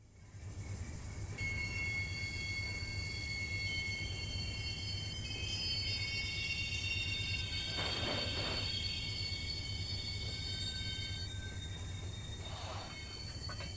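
A freight train rolls out of a rail yard in the Run 8 Train Simulator video game, a steady low rumble of cars carrying on throughout with long, high wheel squeals rising over it at intervals.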